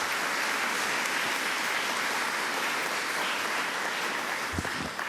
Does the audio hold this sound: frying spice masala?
no